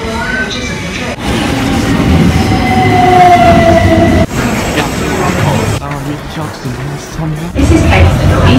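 A train travels in Barcelona with a loud, close rumble of carriages and a rising wheel squeal. Brief drops in the noise break up the steady roar, and voices are audible in the background.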